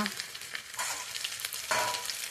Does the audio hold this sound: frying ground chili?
yes